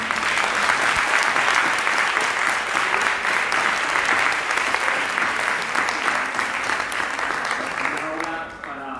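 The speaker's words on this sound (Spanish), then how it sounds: "Creo que la vamos a despedir con un fuerte aplauso." Loud, sustained applause from a conference audience closing a world congress on childhood and adolescence in Cáceres, Spain, dense clapping that holds steady and then thins and fades near the end.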